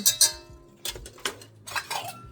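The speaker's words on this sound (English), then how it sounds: "Give it a little whisk" A whisk clinks against a bowl in short bursts of metallic taps and scrapes while bread ingredients are mixed, a few quick strokes separated by brief gaps.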